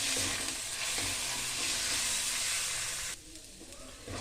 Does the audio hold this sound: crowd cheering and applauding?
no